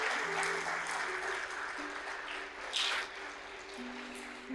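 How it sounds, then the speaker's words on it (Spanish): Church congregation applauding during a Spanish-language sermon, a steady spread of clapping at moderate distance with a few louder bursts, no speech over it. "dale fuerte el aplauso"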